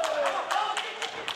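A fighter's corner claps at a kickboxing event, about six sharp, evenly spaced hand claps over roughly a second and a half, set against arena background murmur.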